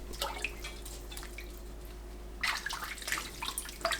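Mackerel is rinsed in water in a kitchen, with soft splashes and drips in short, irregular bursts and a faint low hum underneath.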